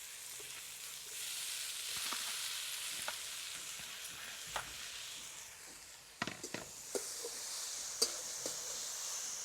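Banana flowers stir-frying in a pan with turmeric and red chili powder on a village wood-fired stove, a soft continuous sizzle with scattered spoon taps and scrapes, growing busier toward the end.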